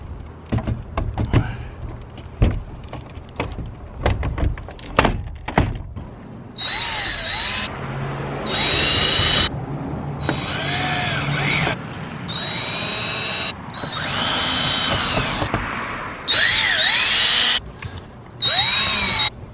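Power drill driving four screws to secure a MaxxAir roof fan inside a step van, heard as repeated whirring bursts of high-pitched motor whine, loud and close, separated by short pauses after some earlier knocking.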